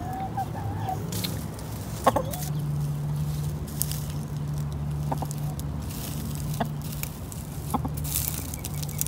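Low, steady clucking from chickens runs through the clip outdoors, with a few brief higher calls and light scratching sounds.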